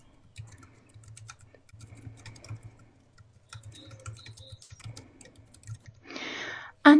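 Soft keystrokes on a computer keyboard typing capital letters into a document, a quiet intermittent run of taps with short pauses, followed by a brief rustling burst near the end.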